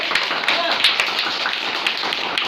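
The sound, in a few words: children applauding quiz winner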